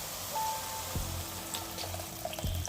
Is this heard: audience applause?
no